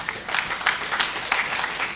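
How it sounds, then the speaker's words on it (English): An audience at an indoor workshop claps, a fairly faint, uneven patter of hands that holds steady for about two seconds. "if you start clapping very loudly"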